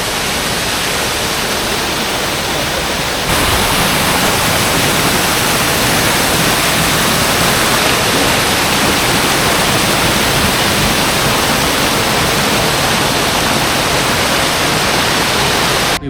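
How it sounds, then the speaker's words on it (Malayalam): A small stream of water flows across a rocky forest road near Kanthaloor, Munnar, during the monsoon, a steady close hiss and rush of running water that continues unbroken for about sixteen seconds. "റോഡിന് ക്രോസ് ആയിട്ടുണ്ട് ചെറിയ രീതിയിൽ ഇങ്ങനെ വെള്ളം പാസ് ചെയ്ത് പോകുന്നുണ്ട്"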